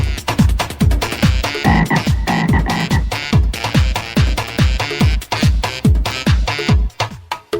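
A loud frog croak sound effect repeats in a fast, steady rhythm over a heavy baile funk beat, punchy and upfront throughout the track.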